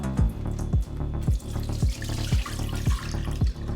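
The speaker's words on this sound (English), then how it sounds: "Wash them off the proper way. Yeah man, rinse off the tuna." Tuna pieces are rinsed under a running tap in a sink while preparing a Jamaican salt fish and dumplings meal, with steady splashing water broken by about eight regular, sharp wet slaps or drips close by.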